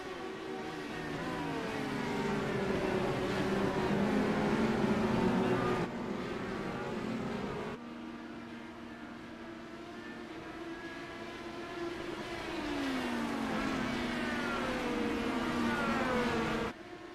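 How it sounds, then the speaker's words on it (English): IndyCar race cars in the iRacing video game, engines revving and shifting with rising and falling whines, a steady loud drone from several cars and pitch sweeps as gears change, with no talk. "The sounds of IndyCar. Nothing quite like it."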